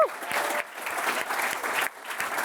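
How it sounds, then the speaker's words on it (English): Audience applause at a tech meetup talk in London, a steady burst of clapping from a crowded room, fairly close and moderately loud, with a brief dip partway through. "Keep that round of applause going"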